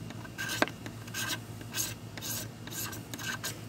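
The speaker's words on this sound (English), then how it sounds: "Now I'm scraping the magnesium part of it, not the ferrocerium" Knife blade scraping a magnesium rod from a fire starter kit, a series of short dry rasping strokes, close and fairly quiet, with no talking.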